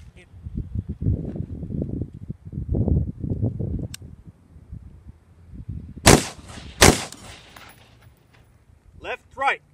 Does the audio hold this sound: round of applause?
no